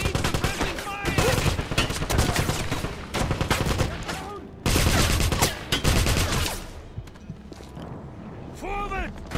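Rapid gunfire in Wolfenstein, dense bursts of automatic shots and mechanical clatter mixed with shouted in-game voices, one loud volley, then a quieter pause and renewed firing.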